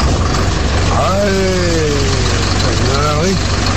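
Old heavy truck, a 2420 model, with its engine idling at a steady loud rumble, while a voice shouts briefly and talk runs over the sound.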